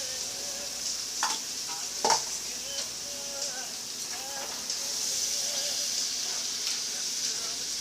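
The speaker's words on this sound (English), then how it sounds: "I have a cup of fresh mushrooms that I'm going to just saute all this together." Green onion and fresh mushrooms sauté in a hot pan with a steady sizzle and hiss, broken by a few scraping stirs of a utensil; faint talk sits in the background.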